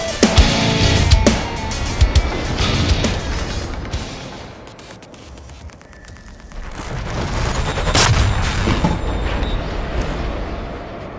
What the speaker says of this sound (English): Now come the fireworks.